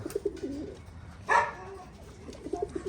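Racing pigeons coo softly at their loft after a one-loft race, low repeated coos near and quiet, with one brief louder bird call in the middle over faint background noise.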